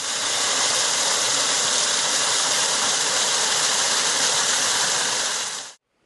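Park waterfalls and flowing water pour in a steady, loud, dense hiss that holds evenly for several seconds, then cuts off abruptly at the end.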